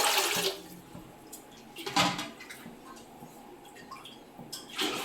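Water poured into a cooking pot in a kitchen while making rice papad, in three short gushing bursts near the start, middle and end, with quiet drips between and no talk.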